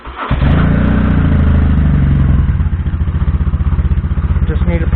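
Motorcycle engine cranking and catching in a cluttered home garage, first a loud churning start, then settling into a close, throbbing idle with a rapid, pulsing beat.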